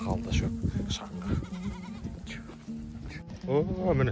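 Thirsty sheep on a dusty pasture bleat over and over, loud and close, their cries overlapping and tumbling after one another in quick succession.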